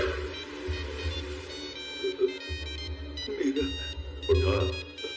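A musical ringtone plays on repeat for several seconds, with muffled voices and low background rumble underneath.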